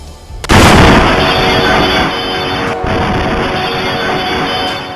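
A sudden powerful explosion at the Nowgam police station in Srinagar at night, a sharp loud blast followed by a sustained roaring rumble and a second thump, heard close and dominating.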